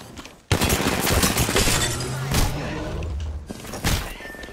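Gunfire in a shooting video game, a loud, dense burst of rapid shots starting abruptly and running nearly continuously for several seconds, with a brief dip and a few final heavy hits.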